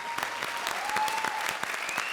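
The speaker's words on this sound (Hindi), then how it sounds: "एक बार फिर से जोरदार तालियां." Studio audience applause on a comedy show, a sustained wash of many hands clapping at a steady level for a couple of seconds, with a faint tone running beneath and no talking.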